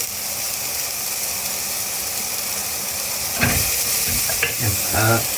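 Sliced onions and curry leaves sauté in a pan for turkey biryani, a steady sizzling hiss joined later by several bursts of scraping stirring from a spatula.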